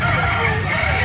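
A bulik gamefowl rooster, a handsome football-sized bird with white legs, crows close by in one sustained call. Other birds and voices murmur in the background.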